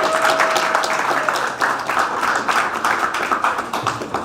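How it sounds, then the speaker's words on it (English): Audience applause at a Search for Common Ground peace gathering: dense, steady clapping from a crowd that holds at an even level through the whole stretch. "Please give him a louder round of applause."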